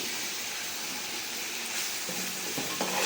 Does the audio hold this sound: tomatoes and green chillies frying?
yes